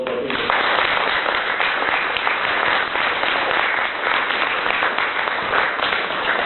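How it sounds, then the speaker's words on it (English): Sustained audience applause fills an award ceremony for tutors at the Houses of Parliament, a dense, steady wash of many hands clapping at close range throughout, with no speech over it. "Dr. Nazir Ahmed, and a round of applause for him."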